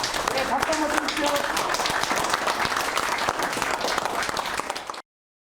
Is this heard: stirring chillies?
no